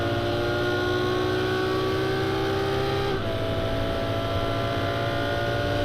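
Continuous high-pitched Ferrari racing car engine whine from Project CARS 2, holding steady pitch then dropping briefly as it shifts gear.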